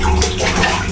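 Water runs steadily from a tap or hose while a dog is bathed, a loud close rush filling the short moment without any voices.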